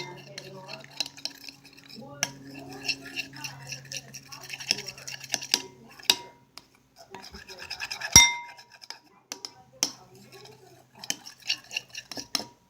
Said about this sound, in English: then you mix your baking soda and your glue together